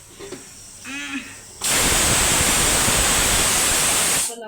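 A pressure cooker of rice on the stove releases a loud, steady rushing hiss of steam that cuts in abruptly and holds for several seconds before stopping, preceded by a brief voice and faint kitchen clatter.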